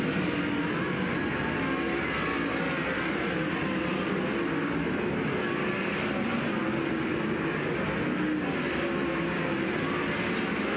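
Sprint race cars run a hot lap session on the dirt oval at Tulare Thunderbowl Raceway. A sustained, dense engine roar fills the whole stretch at a steady level, slightly distant and blended, with no one talking.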